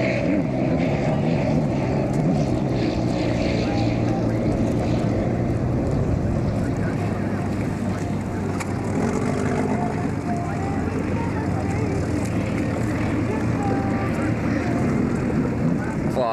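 Miss Budweiser hydroplane race boat engine roaring steadily and loudly throughout, a continuous broad drone mixed with rushing water and wind, with no break in the sound.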